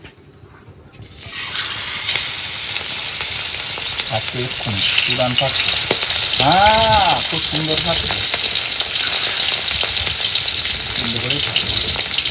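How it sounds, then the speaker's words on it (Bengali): Tengra fish dropped into hot mustard oil in a wok, a loud steady sizzle and bubbling hiss that swells as the fish goes in and keeps frying, with a brief voice speaking over it. "বন্ধুরা কড়াইতে তেল কিন্তু গরম হয়ে গেছে এবার ট্যাংরা মাছগুলো দিয়ে দেবো"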